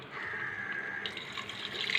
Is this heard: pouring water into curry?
yes